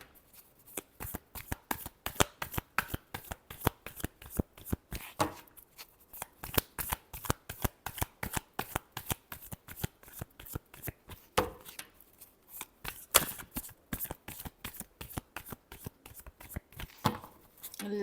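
A deck of tarot cards is shuffled by hand in quick repeated riffles, a dense run of sharp, close flicks and slaps that goes on without pause and has no voices.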